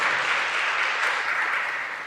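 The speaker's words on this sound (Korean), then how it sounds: "그러니까 박수로 환영했습니다." A church congregation applauds in welcome during a worship service, a steady wash of many hands clapping together at an even level, tapering slightly at the end, with no talk over it.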